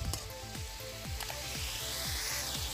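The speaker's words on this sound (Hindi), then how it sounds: "इसी ऑयल में हम इसको फ्राई करेंगे चिकन को" Chicken pieces frying in a small amount of oil for white karahi, a steady close sizzle with soft crackles and a few stirring scrapes, no voices.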